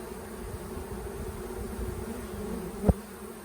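Honeybees fan their wings at the entrance of a newly hived swarm, a dense continuous buzzing hum close by with one sharp knock near the end.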